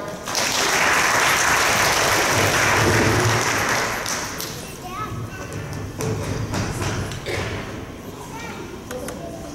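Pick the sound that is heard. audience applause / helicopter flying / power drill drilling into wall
audience applause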